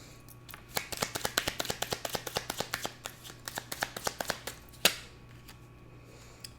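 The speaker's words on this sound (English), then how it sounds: "let me move these cards out of the way a bit" Tarot cards are shuffled and moved by hand in a quick series of close, crisp flicks and slaps, about two dozen in a row, ending with one louder snap and a quiet pause.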